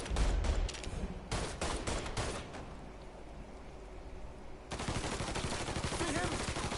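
Gunfire in Mafia 3, with bursts of rapid shots early on, a quieter stretch, then sustained heavy firing resuming near the end, close and loud.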